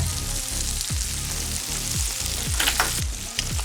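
Bacon-wrapped hot dogs sizzle steadily on a gas grill over medium-low burners, a dense continuous fry with crackly pops and faint repeated low thumps, with no talking.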